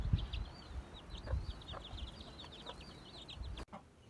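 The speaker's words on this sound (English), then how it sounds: "It is really fun watching broody hens raise their chicks." Broody hens with their chicks, rapid high peeping of chicks running throughout over low soft hen clucks, quiet and close, ending with an abrupt cut.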